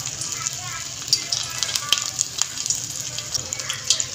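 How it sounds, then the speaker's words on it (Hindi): Chinese-style chicken drumsticks fry gently in oil over low heat, a steady bright sizzle with scattered pops and crackles rising and falling throughout. "तो इसलिए हम इसे हल्की आग पे फ्राई करेंगे।"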